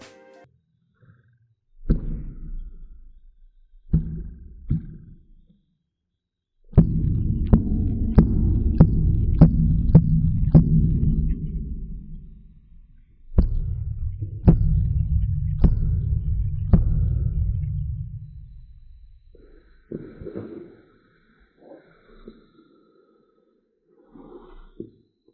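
An Earthquake SuperNova Mark-V subwoofer plays deep bass in long, throbbing pulses with short pauses between, loud and close, leaving sharp rattling ticks and fading out near the end.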